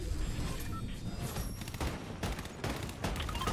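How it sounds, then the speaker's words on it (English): Sniper rifle fire in the Fortnite video game amid busy gameplay, with several sharp cracks and booms cutting through a dense, noisy background of other gunfire. "Here we go, headshot snipe!"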